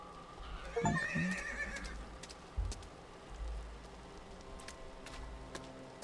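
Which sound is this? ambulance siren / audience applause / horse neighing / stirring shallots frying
horse neighing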